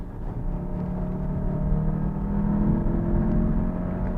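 An Audi TTS with a 2.0L engine accelerates on a public road in Malaysia, heard as a steady, moderately loud engine drone and road hum from inside the cabin, with no voices.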